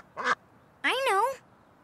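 A cartoon mother duck gives two quacks, a short one followed by a longer, wavering one, close and clear against a quiet background.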